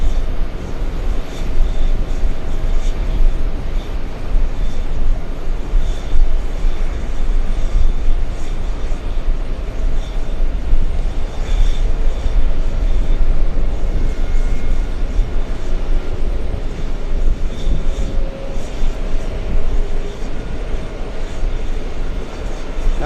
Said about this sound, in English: we can stay with the 747 a little longer